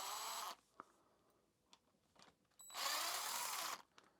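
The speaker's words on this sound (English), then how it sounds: "I'm going to use an impact, obviously they're loose" An impact wrench loosening engine nuts during a mini chopper engine teardown, heard as two loud sustained bursts with a few quiet clanks of tools between them.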